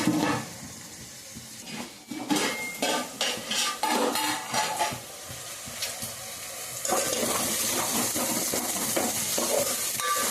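Onions fry in a pan for a raw mango chicken curry, first with a burst of rhythmic scraping and utensil clatter as they are stirred, then a steady, loud bright sizzle.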